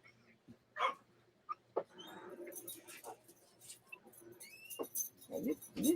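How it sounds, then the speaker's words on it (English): A few short dog barks and yelps come in brief bursts, moderately near, with scattered squeaky sounds and some background voices. "You stop all the barking."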